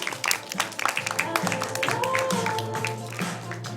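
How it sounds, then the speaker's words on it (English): Audience applause at a Manila press conference greets guest Troian Bellisario, a steady patter of clapping under music and a voice. "Round of applause for her, please."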